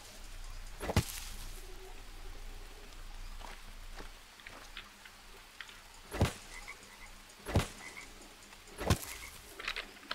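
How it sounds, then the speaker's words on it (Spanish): A frog in the survival game Green Hell croaks several times, sharp, separate calls spaced a few seconds apart over a low background hum, fairly close, with no talking. "Hola, rana."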